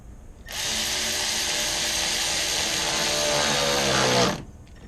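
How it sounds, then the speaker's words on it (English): A battery-powered ratchet runs steadily on a hose clamp during a 2010 Chevy Colorado inline-four water pump replacement, one continuous close, loud whirring burst lasting about four seconds before stopping abruptly. "It's real easy to strip these out, so I'm just going to use the battery ratchet."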